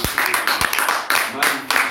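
A congregation claps in rhythm during a church worship service, with steady bursts of hand claps under singing voices.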